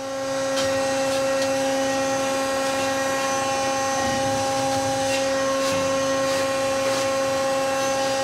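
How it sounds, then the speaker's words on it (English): An Eastonmade paver machine runs with a steady mechanical hum and whine as material is shifted from the back of its hopper to the front, a continuous loud drone with a few faint clanks over about eight seconds. "So what I'll do is move the material from the back of the hopper to the front of it."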